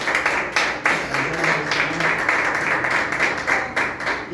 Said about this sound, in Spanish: eso se merece un fuerte aplauso.